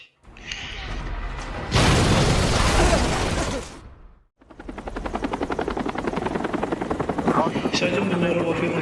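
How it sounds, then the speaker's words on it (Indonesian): Loud, sustained helicopter rotor chop in a battle scene from the action film Extraction, with a harsh burst of noise, a brief cut to near silence, then steady pulsing rotor noise under faint voices. "Dan ketika sebuah helikopter datang, Lohan pun berhasil melumpuhkan helikopter tersebut."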